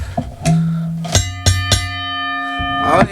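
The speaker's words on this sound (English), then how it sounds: "I rang the bell" A bell rings several times in quick succession, each strike bright and resonant with a long, shimmering decay.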